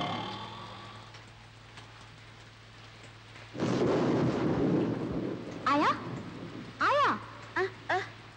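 Heavy rain falls with a steady hiss, broken by a sudden loud thunder rumble partway through, while voices speak briefly toward the end.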